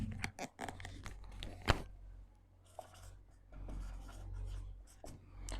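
Pen or pencil writing on paper during a geometry lesson, a series of quiet scratchy strokes with brief pauses, fairly soft and close, no talking over it.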